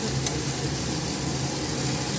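Oil left over from frying katla fish hisses in a pan as something fries for a Bengali fish curry, a dense, even sizzle that holds steady and close throughout, with no voices.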